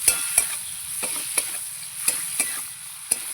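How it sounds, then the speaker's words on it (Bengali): Prawns sizzle in hot oil in a pan while a utensil stirs them, with a constant frying hiss punctuated by sharp, irregular scraping clicks roughly every half second. "চিংড়ি মাছগুলো আমি ভালো করে ভেজে নিয়েছি"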